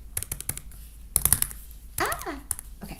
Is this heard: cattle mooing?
no